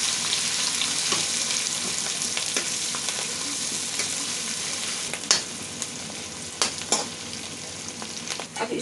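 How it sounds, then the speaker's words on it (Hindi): Onions and green chillies fry in a pan with a steady, moderate sizzle, a few sharp scraping clicks of stirring breaking through toward the end. "इसको थोड़ा सा भूनेंगे ताकि इसका कच्चापन चला जाए।"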